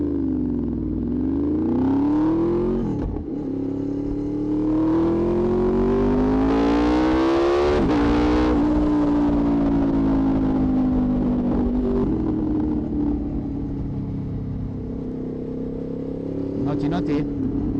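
A Honda VFR800X V4 motorcycle with a full-system exhaust revs loudly and close by, its pitch climbing and falling through repeated throttle blips, with a harsher tone as the VTEC stage comes in above 6500 rpm.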